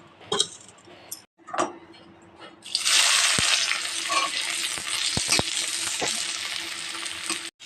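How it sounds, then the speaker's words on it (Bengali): Onions dropped into hot oil in a wok for a bitter gourd and potato dish burst into a loud, sustained sizzle after a few quiet clicks and taps, with sharp utensil knocks punctuating the frying. "তেলটা আমার গরম হয়ে গেছে, আমি পেঁয়াজ দিয়ে দেবো।"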